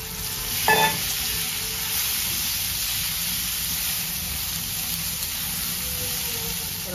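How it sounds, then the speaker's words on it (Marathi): Raw jackfruit sautés in hot oil with spices for a vegetable biryani, a steady close sizzle and hiss with a brief stirring clatter near the start. "फणस टाकून जरा तेलात चांगला परतवून घ्यायचा"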